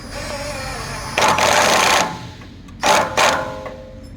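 A ratchet with an 11/16 socket tightens a bolt on the radiator support of a 1968 Chevelle under restoration, giving one longer burst of rapid clicking and then two short ones, close and fairly loud.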